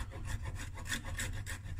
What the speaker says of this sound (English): I'm just using a microplane,